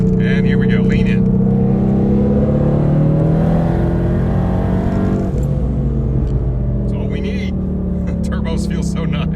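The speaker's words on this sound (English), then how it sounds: "This time I'm going to get a 5th gear pull in." A remotely tuned car accelerates hard in fifth gear, its engine droning loud and close with a steadily rising pitch that eases off and then climbs again, while a voice speaks briefly over it.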